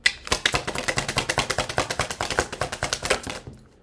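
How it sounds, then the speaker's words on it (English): Tarot cards riffling rapidly out of a deck as a fast, even run of dry flapping ticks, close and loud for about three seconds before stopping abruptly. "Why is the cards flopping out like that?"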